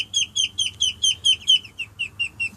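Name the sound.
ducklings calling in their pen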